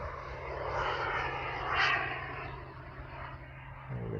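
A giant radio-controlled T-38 Talon scale jet roars past overhead during a practice flight, the turbine whoosh swelling to a peak near the middle, then fading away.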